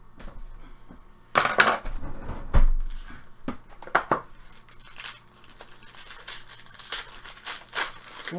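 A 2015-16 Upper Deck Ultimate Collection hockey card pack is opened by hand, with loud close crinkling and tearing of the wrapper in bursts, then lighter rustles and taps of cards being handled.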